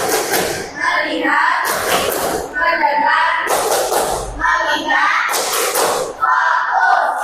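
Classroom pupils doing the 'tepuk fokus' clap routine, with groups of sharp claps every couple of seconds mixed with children's voices chanting in unison.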